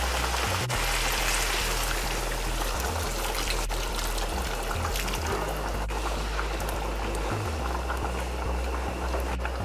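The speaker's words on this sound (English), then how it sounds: "I'm going to add boiling water." Boiling water goes into a pot of Guyanese chicken curry, and the pot answers with a steady, loud bubbling and sizzling wash of liquid. Nobody speaks and no other sound cuts in.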